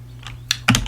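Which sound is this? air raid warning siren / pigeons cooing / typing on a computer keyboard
typing on a computer keyboard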